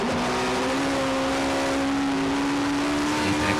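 A race car at Kirkistown circuit, heard close and loud, its engine holding a steady droning note that shifts as it brakes into a corner and then accelerates out, with no voices present.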